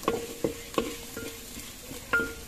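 Rupsha fish cooking in a new clay pot over a clay stove, with onion frying: soft sizzling and several distinct stirring scrapes at an uneven rhythm, close and moderately quiet, no talking.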